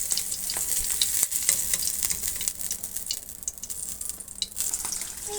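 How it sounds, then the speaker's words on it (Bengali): An egg frying in a pan, a continuous close crackle and sizzle with scattered pops and light utensil taps, no voices. "তো দেখুন এখানে আমি পরে আবার আরেকটা ডিম ভাজি করছি"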